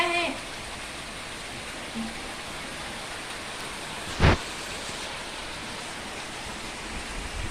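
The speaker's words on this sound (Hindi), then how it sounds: "कितनी तेज हवा भी है, हवा के साथ मूसलाधार बारिश" Heavy downpour with strong wind makes a dense, steady roar of rain throughout, with one brief sharp knock partway through.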